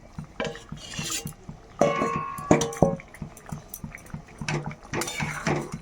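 Hilsa fish pieces and flat beans tipped into a pan for a Bengali curry, giving a few clattering clinks of utensil on metal and wet splashing bursts, close and fairly loud with no talking.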